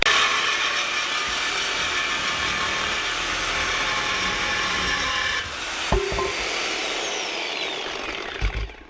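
A Ford F-150 Coyote muffler being cut through with a power saw: a continuous, harsh, grinding whine close by for several seconds, then a metallic clunk and a few scattered knocks as the cut finishes.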